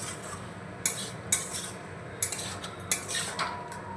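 Yardlong beans stirred in a pan with salt added, a utensil scraping and clinking against the metal in a handful of sharp knocks over a soft steady background hiss, close and with no talk.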